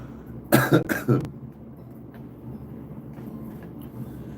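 Two or three close, harsh coughs in quick succession near the start, then a steady low background hum with no voices.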